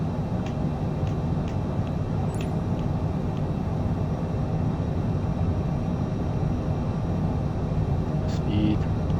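A Cessna Citation CJ4 jet spools up for takeoff in MS Flight Simulator 2020, a steady, loud engine roar holding throughout with faint clicks and a brief tone on top.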